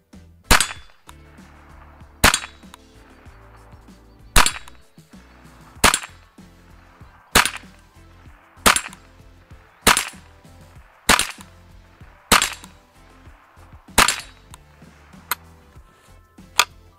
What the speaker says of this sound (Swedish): Flyger skotten ut eller inte?